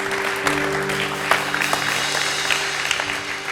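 A church congregation applauds at an evening service, a broad, sustained wash of clapping over a low steady hum, with a few sharper claps standing out here and there.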